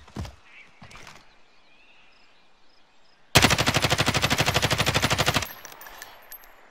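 Rapid machine gun fire from a video game erupts as a loud, evenly spaced burst lasting about two seconds, preceded by quieter scattered clicks and followed by faint lingering noise.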